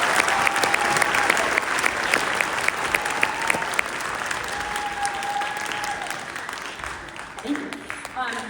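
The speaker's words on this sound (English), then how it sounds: "So a round of applause for those students." Audience at an eighth-grade band winter concert applauds student performers, steady dense clapping filling the room throughout, with some murmuring voices mixed in.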